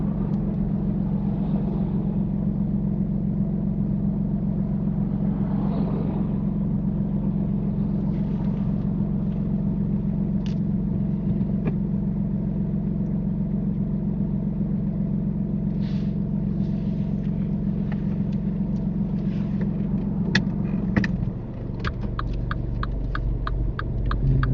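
A car engine idles and pulls away steadily during a UK mock driving test, a constant low throbbing hum held for about twenty seconds before the pitch shifts as the car moves off, with faint clicks over it.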